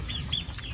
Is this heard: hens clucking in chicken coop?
yes